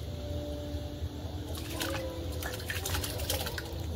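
Water splashes and gurgles as it is poured into a cooking pot of khichuri with half-boiled rice, a close, wet stream starting midway over a faint background hum.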